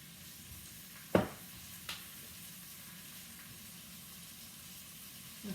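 Venison browning in hot oil in a pan, a steady low sizzle with a couple of sharp clinks or stirs, fairly quiet and close.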